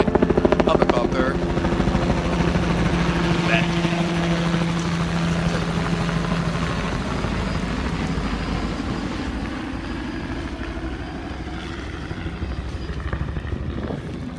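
Loud helicopter flying overhead, a heavy rumbling rotor drone that is strongest at the start and slowly fades, with a voice talking over it.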